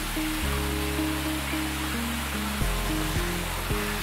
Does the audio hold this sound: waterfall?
yes